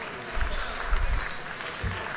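Applause fills a legislative chamber as colleagues clap together, a dense, moderately distant patter lasting a couple of seconds with low thumps underneath.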